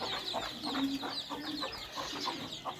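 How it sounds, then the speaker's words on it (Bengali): Two hens clucking softly as they roam with a brood of about thirty chicks, the chicks' thin peeping scattered above the hens' low calls, steady and fairly close. "এই দুইটা মুরগি ওদের বাচ্চাগুলো নিয়ে ঘুরতেছে"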